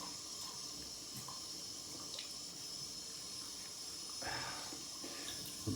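Running water from a tap splashes steadily as a face is wet during a shave with a CV Heljestrand MK 31 straight razor, a faint, continuous flow with a brief louder surge near the end.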